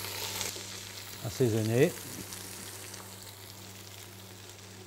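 Fennel and vegetables gently sizzling and stewing in a pan, a soft steady frying hiss at low volume, with a brief spoken word over it.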